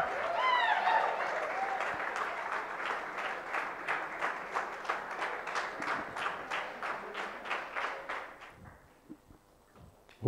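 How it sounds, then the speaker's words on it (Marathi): An audience claps for a prize winner at a project competition prize distribution, a dense burst of many hands at first that settles into steady rhythmic clapping and fades out near the end. "वरुणसाठी जोरदार टाळ्या झाल्या पाहिजेत."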